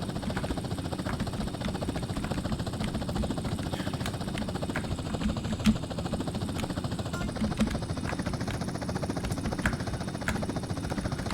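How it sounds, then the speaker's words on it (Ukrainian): A helicopter flies in GTA San Andreas, giving a steady, continuous engine and rotor drone at moderate loudness throughout, with no talk over it. "Чогось люди лякаються цього гелікоптера."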